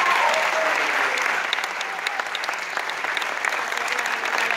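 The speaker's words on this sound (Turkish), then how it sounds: "Ve şimdi yine hepsi birbirinden değerli müzisyenlerimizi alkışlarınızla sahneye davet ediyorum." A concert audience applauds steadily as a trumpet player from a teachers' choir ensemble is welcomed onto the stage. The clapping is dense and sustained, with a faint voice underneath.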